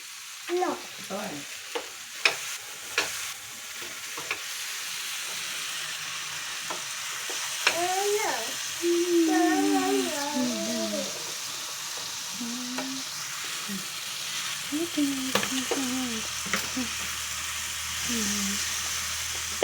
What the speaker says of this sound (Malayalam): എന്നിട്ട് നമുക്ക് നല്ലതായിട്ട് ഇളക്കാം.